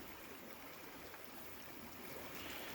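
Denatured alcohol fuel trickles steadily into a small camping stove beside a river, a faint continuous pouring hiss with no breaks.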